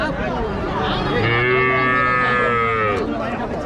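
Cattle at the Uthangarai livestock market, with Jersey and HF dairy cows and calves, give a long, loud, drawn-out moo of about two seconds over a steady din of crowd noise and chatter.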